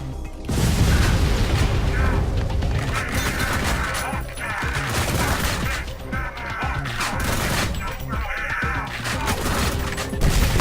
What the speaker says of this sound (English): Oh, bomb to the face.